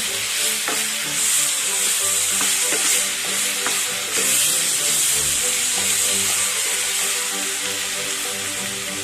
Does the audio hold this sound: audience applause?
no